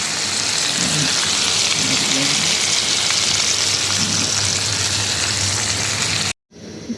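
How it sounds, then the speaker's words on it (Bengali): Rupchand fish fry in a wok of oil with a loud, steady, crackling sizzle that runs unbroken before cutting off abruptly near the end. "বন্ধুরা এইবার আর একবার মাছগুলোকে ভেজে দিচ্ছি"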